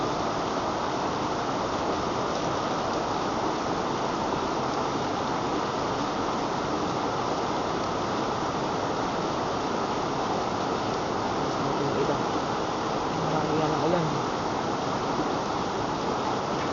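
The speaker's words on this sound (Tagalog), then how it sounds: "Nandiyan pa ng ulan." Steady heavy rain pours outside during a typhoon, a dense, even hiss of falling water that continues without pause at constant loudness.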